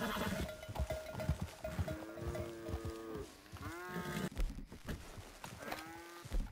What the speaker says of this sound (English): All right, cows.